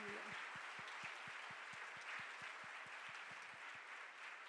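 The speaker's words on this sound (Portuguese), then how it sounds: "Dá um aplauso a Ele" Church congregation applauding, a dense wash of clapping hands, with a steady rhythmic beat of clapping running through it, fairly distant and even in level.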